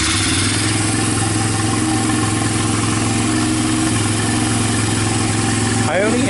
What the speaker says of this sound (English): powering the starter directly from the 12 volt jump pack